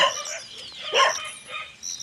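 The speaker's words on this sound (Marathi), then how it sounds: "गावाकडे एवढे कुत्रे पण असतात असे भुकतात, ते पण मरणाचे भुकतात." Village dogs bark in a few sharp, yelping bursts over about two seconds, fairly close and clear with no talk.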